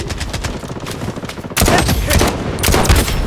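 Rapid gunfire from an SVD sniper rifle in the shooter game Blood Strike, loud overlapping shots in a dense burst that grows heavier partway through, with no voices.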